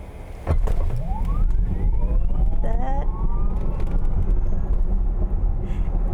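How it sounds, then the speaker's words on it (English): A 2022 Lucid Air Grand Touring launches hard in sprint mode, a rising electric whine sweeping upward over loud road and wind roar that builds steadily and stays strong to the end. "Let's test out the acceleration, and I'm going to switch it to sprint mode."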